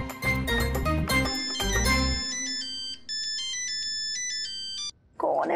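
A mobile phone ringtone plays loud and close, a bright electronic melody of bass-backed chords followed by a lighter repeating tone pattern, broken by a brief gap before a voice cuts in at the end.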